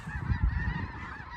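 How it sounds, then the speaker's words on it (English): A flock of geese passes overhead, a burst of overlapping nasal honks, fairly close and loud, over a low rumble of wind. "That is a lot of geese."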